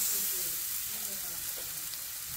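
Salmon fillets, skin removed, sear in a hot pan with a steady, close sizzle and broadband hiss that holds evenly throughout, no voices over it.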